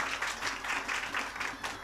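An audience at a Rajasthan talent hunt show semifinal claps in a soft, continuous patter, fairly distant and faint throughout.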